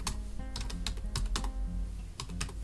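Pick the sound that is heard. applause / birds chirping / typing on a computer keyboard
typing on a computer keyboard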